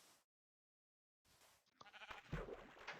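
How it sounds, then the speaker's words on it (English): A sheep in the Minecraft beta gives a short bleat after a brief silence, followed by a few louder in-game clunks and rustles close by. "Oh, we got a trusty sheep here, though."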